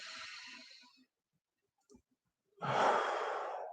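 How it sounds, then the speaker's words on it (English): A person breathes out audibly during a shoulder-drop stretching exercise, then falls quiet. After a brief click, they take a deeper, louder breath in. Both breaths are close and clear, with no talking. "So just a deep breath in"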